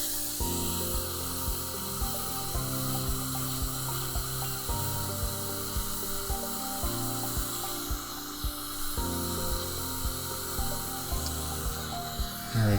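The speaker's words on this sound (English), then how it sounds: "So we'll just use our rubber polishing wheel." A rubber polishing wheel on a dental handpiece polishes a composite filling on a fractured tooth, giving a steady, close high whine with repeated soft rubbing pulses as it touches the tooth.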